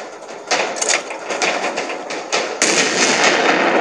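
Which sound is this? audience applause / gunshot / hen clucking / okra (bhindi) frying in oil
gunshot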